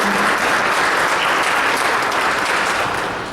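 Loud, dense applause from attendees at a Belleville Board of Education meeting, steady throughout and tapering slightly at the end.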